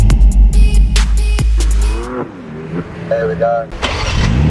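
A BMW car drifts on a driving course, its engine throbbing loudly with low rumbling revs before easing off, while someone talks over it and the tires and engine pick back up near the end.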